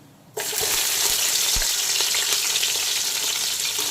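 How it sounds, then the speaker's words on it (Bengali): Chopped ginger, garlic and green chilli hit hot oil after a quiet start, setting off a sudden loud, steady crackling sizzle that keeps going close up, with occasional stirring taps. "এখন দিয়ে দিচ্ছি আদা, রসুন আর কাঁচা লঙ্কা কুচি।"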